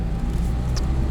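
Intake and engine of a 2021 Mazda MX-5 Miata Club with a manual gearbox, heard from the cabin while driving as a steady low drone with a brief brighter rise near the end.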